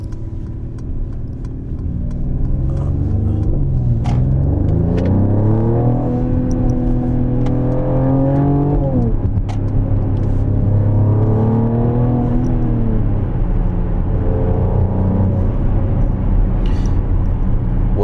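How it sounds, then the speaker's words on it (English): A Mercedes GLE engine revs up and down repeatedly in loud, close sweeps, its exhaust adding sharp pops and crackles between the rising and falling engine notes, with no talking. "You can turn the exhaust on. And what I love about these cars, they get the popping and crackling."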